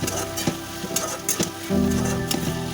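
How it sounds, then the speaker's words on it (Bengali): A spoon scrapes and stirs curry with gathi kochu and roasted cumin powder in a sizzling frying pan, irregular close taps and scrapes over a steady frying hiss. "দিয়ে ভালো করে আমি সব মিশিয়ে দিচ্ছি।"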